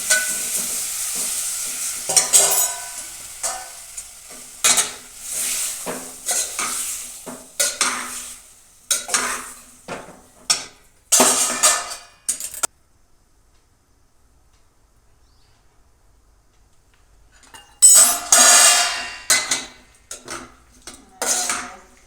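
Tomato curry with mustard seeds, asafoetida and curry leaves is stirred in a pan, producing bursts of clattering spoon-on-metal scrapes and a light sizzle, then a silent gap before another loud flurry of stirring.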